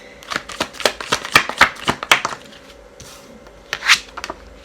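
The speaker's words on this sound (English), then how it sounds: "And y'all saw me shuffle this." Tarot cards shuffled by hand in quick, crisp riffles and slaps, a close, busy run of about two seconds, then a pause and one more short burst.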